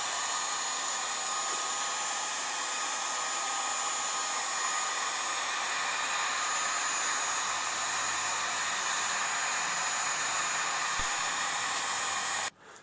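A heat gun blows steadily and loudly for about twelve seconds, warming PVC pipe until it softens, then cuts off abruptly near the end.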